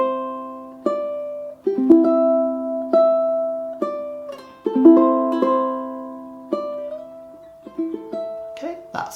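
Fingerstyle ukulele picks out the opening measures of the B section of a piece very slowly, plucked notes and small chords spaced apart with gentle decay, close and alone without talk.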